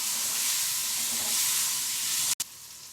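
Chopped tomato sautéing in a pan makes a continuous bright sizzle and hiss, broken by a brief dropout near the end.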